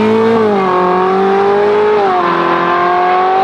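A fast car accelerates hard, its engine loud and close with a steady rising whine that dips as gears shift, heard from inside with no talking.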